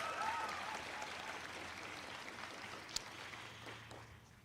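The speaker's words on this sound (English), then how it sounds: "a huge round of applause again for all of those people" Faint, distant applause from a crowd at an outdoor college commencement in front of a building, a soft continuous patter that slowly fades, with one sharp knock midway.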